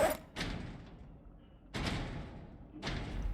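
Zombies bang on a base in the video game Project Zomboid, three heavy, muffled thuds spaced over a few seconds, each with a booming decay, with no speech.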